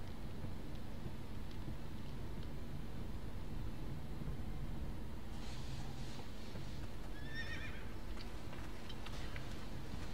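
A horse neighs in a Game of Thrones video game, one clear whinny partway through, over a steady low background rumble.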